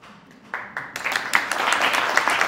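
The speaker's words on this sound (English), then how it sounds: "Everybody's clapping." A film festival Q&A audience breaks into clapping: a few scattered claps at first, then the applause quickly swells into a full, continuous round from the crowd.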